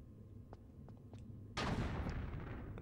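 A gun fires in Tomb Raider: The Last Revelation with a single loud, sharp blast that booms and rolls off slowly. A few faint ticks come before it.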